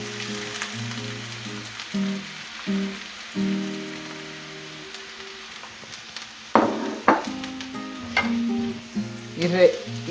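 Cabbage fries in oil in a pan, giving a steady crackling sizzle with louder spitting bursts toward the end, partly under tonal voice-like sounds.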